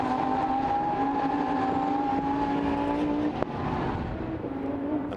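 Lamborghini Super Trofeo race cars run nose to tail at the Nürburgring, their engines holding a loud, steady, high whine that rises in pitch, with a brief sharp burst as one shifts gear.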